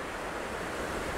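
Ocean surf rushes in a steady, broad wash of noise that stays close and loud throughout, without distinct breaks or any voices.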